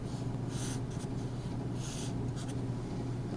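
Someone sketches a vector on a board during a math lecture, making several short, scratchy strokes that are close and quiet, with no talk.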